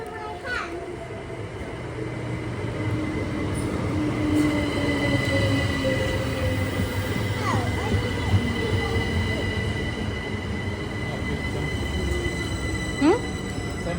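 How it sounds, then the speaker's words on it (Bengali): A London local train pulls into a station, its steady low rumble and rolling wheel noise filling the scene, with brief wheel squeals and faint voices in the background throughout. "এই যে আমাদের ট্রেন চলে এসেছে"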